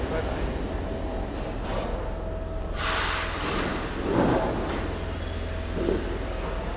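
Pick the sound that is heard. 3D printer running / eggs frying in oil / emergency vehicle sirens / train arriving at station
train arriving at station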